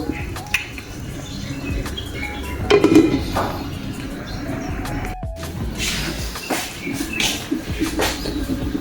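A metal lid clinks down onto a pot of boiling bulalo, a Filipino beef soup, in one brief clatter over a steady low bubbling.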